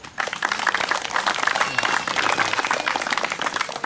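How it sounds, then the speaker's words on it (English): A crowd applauds steadily, dense clapping sustained for several seconds at moderate loudness, without a voice over it. "And please give a big round of applause to Patrick Darley-Jones."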